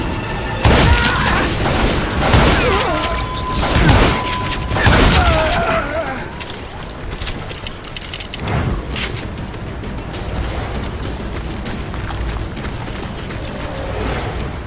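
Gunfire in the Western video game Call of Juarez: Gunslinger comes as loud, booming shots and heavy blasts in the first seconds, then gives way to a dense, rumbling game soundscape with sporadic later bangs.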